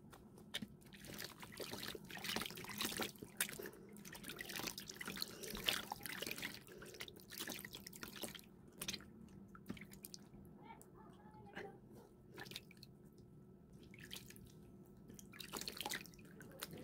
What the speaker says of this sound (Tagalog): maghugas po muna tayo ng mukha